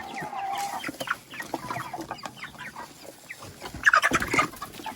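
Several young broiler chickens cluck busily in short, overlapping bursts, with one louder, closer squawking cluck near the end.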